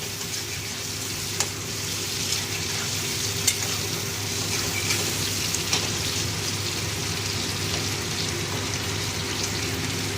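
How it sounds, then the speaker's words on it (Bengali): Tomato is stirred in hot oil for a Bengali pabda fish dish, giving a continuous close sizzle and frying hiss. Faint scrapes and taps of the spoon come through now and then, and there is no talk. "টমেটোটা তেলের উপরে একটু গরম নাড়াচাড়া করলে না, টমেটোটা গলে যায়"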